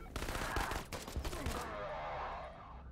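Shotgun blasts in the Krankenheit video game, a quick cluster of sharp loud shots over the first second and a half, then a fading tail of ringing noise.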